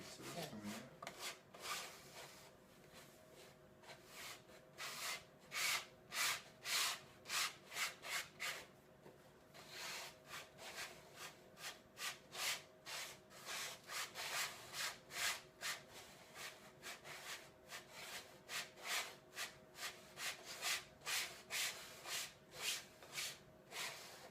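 Dry sifting of hash resin across a screen produces a repeated raspy rubbing and scratching, rhythmic strokes that are fairly close and steady, with faint voices now and then underneath.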